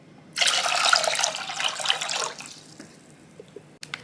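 Five cups of water pour into a cooking pot for coconut palm-sugar agar-agar: a loud, close rushing splash for about two seconds, then fading to light drips and small clinks, with no talking.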